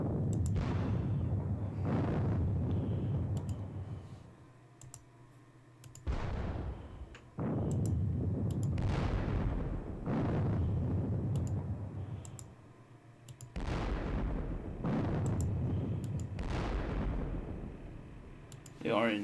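Artillery fire in a computer Gettysburg wargame, with repeated muffled booming blasts in irregular sequence and mouse or keyboard clicks between them. A voice talks quietly underneath.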